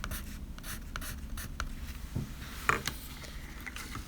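A Derwent Inktense pencil scratches lines across paper in quiet, close, repeated strokes with a brief tap partway through.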